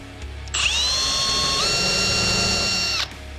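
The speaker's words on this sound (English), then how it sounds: "So I just run this drill into it" A power drill drives screws into a chest of drawers being repaired and restored, a steady high whine lasting about two and a half seconds that dips slightly in pitch partway through, close and loud, with no talking.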